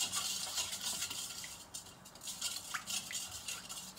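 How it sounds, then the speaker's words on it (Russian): A spoon stirs warm water and salt in a bowl for Armenian lavash dough, with a continuous close scraping swirl and light clinks against the bowl, alone without talk. "Мы заливаем воду в мисочку теплую, сюда же соль. Хорошенечко все перемешиваем"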